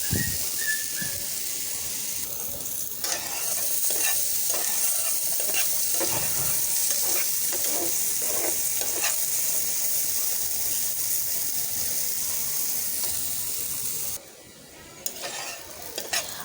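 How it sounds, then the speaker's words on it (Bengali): Small potatoes fry in oil in a pan with a constant loud sizzle, while a utensil stirs them with intermittent scraping and clinking close by. No one talks, and the sizzle drops briefly near the end. "যেহেতু একেবারে ছোট আলু আমি এগুলো একেবারেই ভেজে নিচ্ছি"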